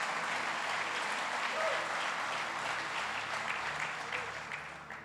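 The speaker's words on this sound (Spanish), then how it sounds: "Ese aplauso es del 2013" An audience applauds throughout at a church service, a dense, steady wash of clapping at moderate distance that fades slightly toward the end.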